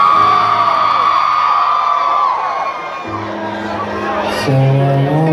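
A concert crowd at a rapper's show on the GOOD:AM Tour in Seattle, cheering and whooping loudly under a singer's amplified voice and a booming sound system.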